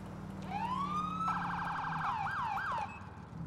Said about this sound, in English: Oh, new siren.